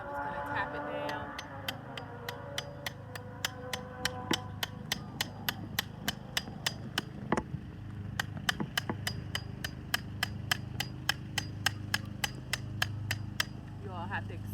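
A garden stake for grapes is tapped down into the ground, producing a long, steady series of sharp, evenly spaced knocks. A brief voice comes at the start over a low background hum.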